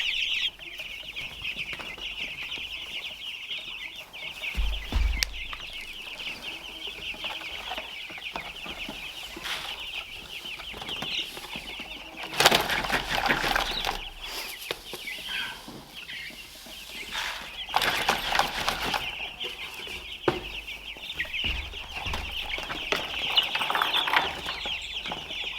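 Meat chickens cluck steadily while eating inside a movable chicken tractor on a farm, a continuous busy flock chatter with occasional louder bursts and rustling, fairly close and without speech.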